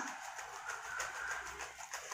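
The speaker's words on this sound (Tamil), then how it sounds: "திஸ் குருவி சத்தம் போட்டுகிட்டே இருக்குது" Small bird chirping repeatedly indoors near a home, a steady run of short high calls with a pigeon-like coo in the background, no talk over it.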